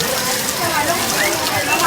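Heavy rain pours down in Tondo, a dense, loud, unbroken wash of noise close by, with possible faint voices blended into the downpour.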